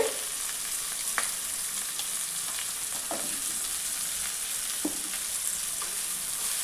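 Tomato, turmeric and chilli powder fry in a pan for a dried-fish gravy, giving a steady close sizzle broken by a few soft stirring scrapes, with no talking.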